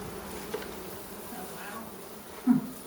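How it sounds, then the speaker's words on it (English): A low, steady buzzing of bees hums close by, with a louder buzz near the end as one passes near. "There's a bunch of bees."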